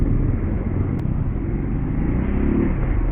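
Heavy road traffic of cars and motorcycles in Balagtas, Bulacan, as a dense, steady engine rumble close by with no clear gaps.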